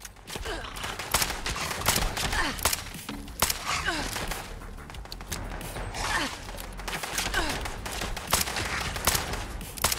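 Enemy gunfire in Fallout 76, a steady stream of close sharp shots cracking irregularly across the whole stretch amid game noise, with faint breathy vocal sounds.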